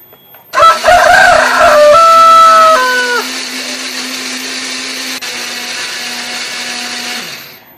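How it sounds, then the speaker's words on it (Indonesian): A blender grinds a spice paste of pepper, coriander, ginger, garlic and shallots, starting loud with a whirring motor whose pitch shifts as the blades bite, then settling into a steady hum before stopping. "Kita akan menghaluskannya menggunakan blender."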